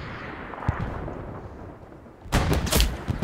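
Heavy gunfire and distant booming shots in the World War II shooter Hell Let Loose, a few muffled reports at first, then a loud close burst of rapid fire near the end.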